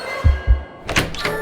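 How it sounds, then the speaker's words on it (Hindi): A wooden door in a horror story scene gives two dull, heavy thunks close by, followed by a brief creaking, rattling sound as it is pulled open. "जैसे ही वो दरवाजे को खोलती है"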